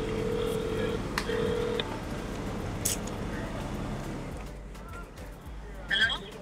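Telephone keypad tones sound as a phone is dialed, short beeps in a quick sequence amid crowd noise at a music festival, with people talking nearby.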